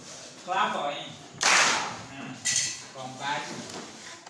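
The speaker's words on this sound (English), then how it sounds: "Clap for him." Classroom of students clapping for a classmate during a lesson, a few short bursts of hand claps at irregular intervals, fairly close and moderately loud.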